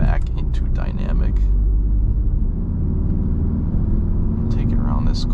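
A 2021 Audi TTS in dynamic mode gives a steady, low engine and road rumble through the cabin, holding a constant level into a corner, with brief brighter noises near the start and end.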